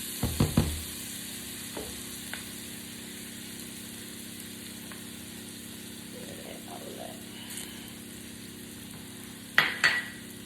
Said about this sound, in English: You gotta constantly stir that flour so it can continue to cook off